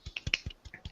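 A quick run of about seven soft, dry finger snaps given as a golf clap, evenly spaced and close but quiet.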